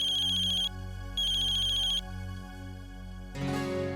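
An incoming-call ringtone on a phone sounds in two clear bursts of repeating electronic tones, then stops, then a louder burst starts, all playing alone against a soft background hum in a domestic TV drama scene.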